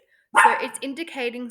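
A pet dog barks nearby, one short burst at the start that overlaps someone speaking indoors.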